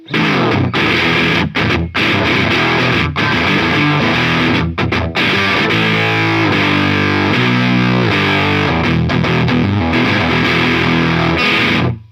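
A Valiant Jupiter offset electric guitar played through an FZ1 fuzz pedal into a Marshall SV20 amp, loud saturated fuzz chords and riffs ringing continuously with brief choked gaps between phrases.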